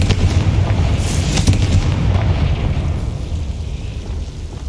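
A Confringo fire spell blast in Hogwarts Legacy, a loud booming burst with rumbling fiery roar that fades out over a few seconds.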